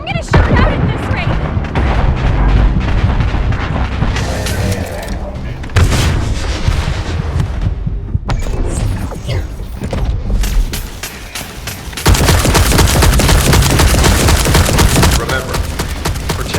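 Heavy gunfire in The First Descendant shooter game, rapid bursts and loud booming blasts in dense successive volleys with brief pauses, speech mixed in.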